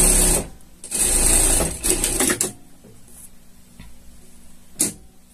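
A sewing machine stitches a shark costume in short bursts, loud at the start and then more intermittent, with faint clatter between runs and no talking.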